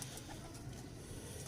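A pedigree black-pearl-eyed pigeon coos in a home loft in low, soft, continuous murmurs, faint against a steady background.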